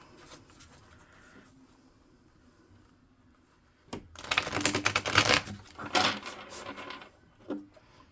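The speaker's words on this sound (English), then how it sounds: "Just gonna shuffle those back in." A quick flurry of crisp, papery riffling as tarot cards are shuffled, loud for a few seconds after quiet handling, then a brief final tap.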